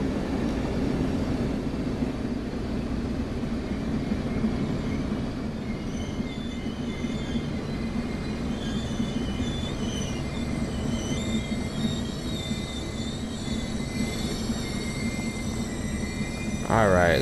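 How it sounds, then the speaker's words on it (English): A passenger train in the Train Sim World 2 game rolls into a station, with a low steady rumble of wheels and traction, faint high squeals and tones above, and a brief louder burst near the end. "So let's just wait for the train to stop and we'll pick a seat."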